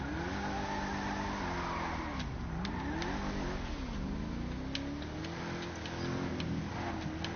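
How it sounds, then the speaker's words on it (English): A muscle car engine in GTA Online revs loudly and repeatedly, its pitch climbing and dropping in sweeping waves with faint ticking clicks over the steady roar and no talking. "I still love the way this thing sounds, man. It sounds like a muscle car."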